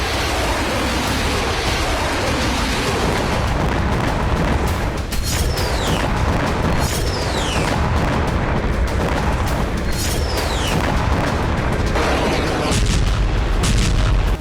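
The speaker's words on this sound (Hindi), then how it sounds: "यूक्रेनी सेना इस वक्त रूसी फौज को अटैक एमएस मिसाइलों से टारगेट कर रही है।" Drone and missile strikes at Avdiivka during the war, heard as a dense, roaring wash of rumble and blasts with no pause, with some higher whistling streaks passing over it, loud and distorted.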